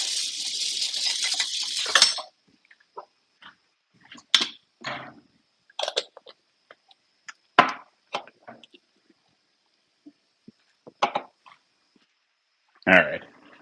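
Ham and other ingredients stirred in a pan, giving scattered clinks, scrapes and knocks of utensil on cookware after a short burst of sizzling hiss at the start.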